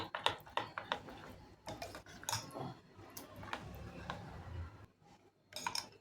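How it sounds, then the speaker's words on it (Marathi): Wheat flour batter being mixed in a bowl, a utensil clinking and scraping against the sides in quick, irregular strokes, close and fairly quiet, with a short pause near the end before a few more taps. "आपण हा बॅटर मिक्स करून घेऊया ह्याच्यामध्ये"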